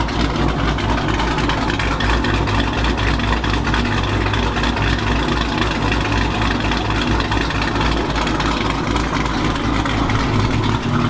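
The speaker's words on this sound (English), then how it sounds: "Car's strapped down. Right now, just letting it idle." Dodge Hellcat Redeye V8 idling while strapped down in a shop, a loud, steady low rumble with a slightly lumpy pulse that runs unbroken throughout, close by and with no talking.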